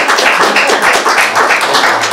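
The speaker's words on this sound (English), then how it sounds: "Applause is the other way around" Council meeting attendees clap together in a brief, close round of applause, dense and steady throughout.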